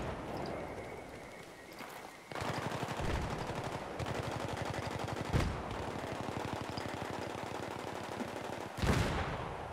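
Automatic gunfire from Battlefield 3 rattles in rapid sustained bursts, loud and dense, with a few heavier single shots standing out and a brief pause in the firing near the start.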